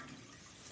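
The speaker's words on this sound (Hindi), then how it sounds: "पानी निकलेगा और पनीर बन जाएगा" Whey water drains from homemade paneer in a steady, faint, continuous trickle with no talking.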